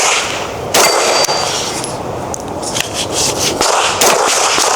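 Springfield Kuna pistol-caliber carbine fired at steel targets, giving a few sharp cracks with ringing metallic clangs and pings spaced irregularly across the stretch, loud and close over faint outdoor background.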